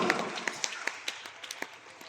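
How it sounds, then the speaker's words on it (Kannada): Scattered, fairly faint hand claps from an audience honouring guests at a community felicitation ceremony, irregular and sparse rather than a full ovation, with a soft room background. "ಎಲ್ಲಾ ವಿಶ್ವಕರ್ಮ ಬಂಧುಗಳು ಚಪ್ಪಾಳೆ ತಟ್ಟುವ ಮೂಲಕ ಮಹನೀಯರನ್ನ ಆಧಾರದಿಂದ ಗೌರವಿಸೋಣ"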